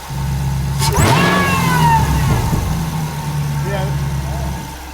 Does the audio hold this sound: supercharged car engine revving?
yes